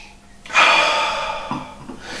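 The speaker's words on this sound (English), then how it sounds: "we'll give it a bit of a whirl and take a sniff" A single close, long nasal inhale as someone sniffs a glass of Carrizal Rioja red wine after swirling it, starting abruptly and tapering off over about two seconds, with a faint shorter breath afterward.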